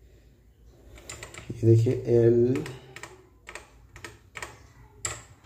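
A brief spoken phrase, then a run of light, close keystrokes as a file name is typed on a computer keyboard in Pilot 2000 LED lighting software, the taps uneven and spaced.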